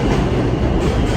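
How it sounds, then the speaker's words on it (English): A train rumbles along steadily, a dense continuous roar of wheels and rails, loud and close, with no talking. "We're on the train running in right now."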